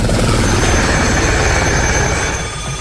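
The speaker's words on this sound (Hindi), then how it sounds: "हेलीकॉप्टर सुबह से ही ग्लेशियर पर उड़ान भरते रहे हैं।" Military helicopter flying over a glacier in the high mountains near an army base camp, a loud, steady rotor roar filling the whole stretch and fading slightly at the end.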